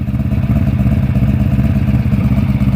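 A Magna motorcycle fitted with new Emgo mufflers idles close by, its engine giving a loud, even, throbbing pulse with a light mechanical clatter throughout.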